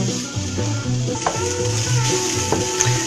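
Onion and shallot cook in a pan, a steady close sizzle broken by the scrape and clack of a spoon stirring in a loose, irregular rhythm.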